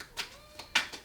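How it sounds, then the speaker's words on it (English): A cat meows faintly in the background indoors, a thin drawn-out call heard among a few short, sharp tapping sounds, with no talking. "If you hear a cat in the background"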